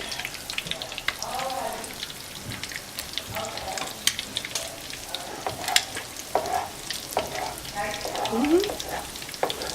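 Crab cakes fry in hot grease in a big pan, giving a steady close sizzle and crackle with scraping and stirring as they are moved around, and brief voices come in now and then.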